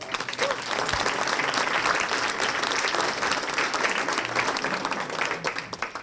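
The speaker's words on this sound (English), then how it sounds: "Please give Ed Bean a round of applause" A dinner crowd at a chamber of commerce awards banquet gives an award recipient a dense, sustained round of applause that holds at an even level throughout.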